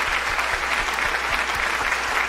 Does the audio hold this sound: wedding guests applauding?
yes